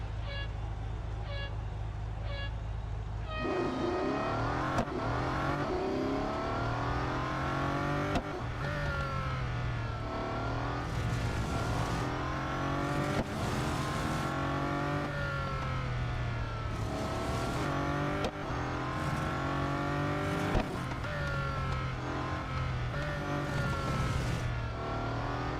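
Race cars in the Real Racing 3 video game tear around an autocross course, engines revving and climbing through gears in repeated high-pitched surges, loud and continuous throughout.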